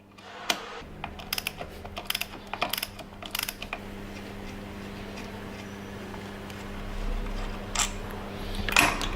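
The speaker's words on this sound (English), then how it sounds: "It is attached with the inner Kickstarter assembly via this bolt, so I'll have to crack this bolt loose." A wrench works a 12 mm bolt loose on the inner kickstarter assembly of a Yamaha Banshee, giving a run of sharp metallic ratcheting clicks in the first few seconds, then quieter rustling and a final close clatter.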